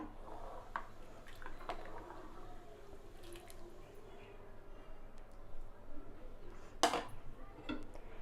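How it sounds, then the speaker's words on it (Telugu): Soaked, drained basmati rice for plain biryani is stirred in a pressure cooker pot, giving soft wet scraping and shuffling with light metallic clinks, including one sharper knock, all fairly quiet. "బియ్యం వేసుకున్న తర్వాత ఒకసారి మిక్స్ చేసుకుందాం"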